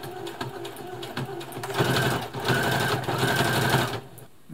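A Brother Extra Tough sewing machine stitches in a steady, fast mechanical whir with rhythmic needle clatter, close and continuous for several seconds before stopping abruptly.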